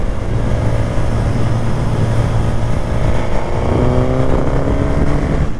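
Suzuki GSX-S 950 motorcycle on its stock exhaust, riding on small mountain passes, engine droning loud and close with a steady throaty hum and shifting tones as revs change.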